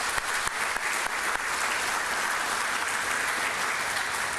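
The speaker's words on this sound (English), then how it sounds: "Our chief, Cecil Rambo, you can give him a round of applause" Dense, sustained applause from a large audience at an airport police facility ribbon cutting ceremony, continuous and fairly loud with no talking.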